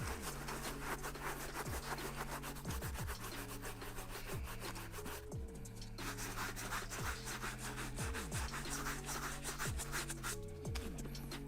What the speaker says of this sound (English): We're going to be using our mesh brush right here and we're going to be resetting the nap by brushing it in circular motions.